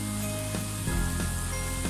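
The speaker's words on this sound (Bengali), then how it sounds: "এবার আমি মশলাটাকে আরেকটু ভালোভাবে কষিয়ে নিচ্ছি" Spice masala for a shol fish curry, with turmeric, chili powder, salt and cumin, fries in a pan, giving a dense continuous sizzle with a few soft stirring scrapes.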